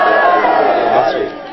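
At a Shia majlis-e-aza mourning gathering in Basti Kharani, a crowd shouts the Nara-e-Haidari slogan together in one loud, brief sustained roar of massed voices that fades near the end.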